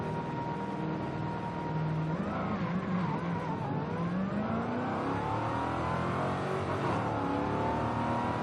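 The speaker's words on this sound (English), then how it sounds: "Nice muscle car sound, nice muscle car vibe." Ford Mustang Cobra muscle car in Forza Horizon 5, heard from the in-car view: a loud, steady engine drone rises and falls through repeated revs and gear changes with no pauses, no talking over it.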